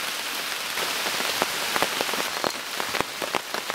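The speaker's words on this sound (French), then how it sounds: "comme vous l'entendez, sous la pluie" Rain patters steadily on a surface at a campsite bivouac, a dense close hiss broken by scattered louder drops, with no talking.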